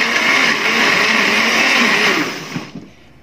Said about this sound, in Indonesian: Dan ini langsung saja di blender hingga halus.